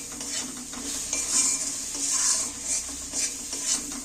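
Chopped tomatoes sizzle steadily in a pan while a utensil stirs them, with a continuous close hiss broken by repeated scraping sweeps and no talk.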